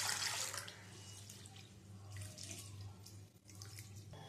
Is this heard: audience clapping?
no